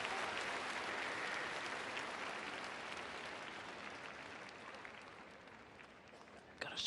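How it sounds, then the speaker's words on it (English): Applause from the arena audience at a men's free skating event at a figure skating championship in Shanghai, a steady broad wash of clapping that slowly fades, with a brief burst near the end. "Got a shot of Alexei Urmanov on the side, leading the applause"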